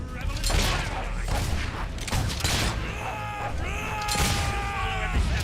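A rebel mortar in the video game Fable III fires in a rapid series of booming blasts and crashes, layered with clattering mechanisms and brief groaning or shouting tones; no clear speech.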